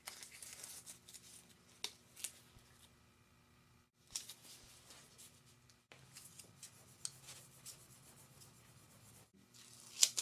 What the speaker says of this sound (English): I'll burnish it down really good to give each hinge its best chance of succeeding